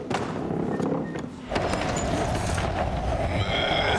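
Horses whinny loudly over a busy mix of hoofbeats and thuds, the noise swelling after a brief dip.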